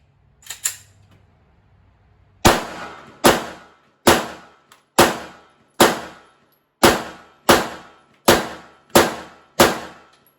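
Ten sharp 9mm gunshots fired from a Smith & Wesson SD9VE pistol at a range, loud and evenly spaced at a steady rhythm after a couple of faint clicks, each crack decaying quickly.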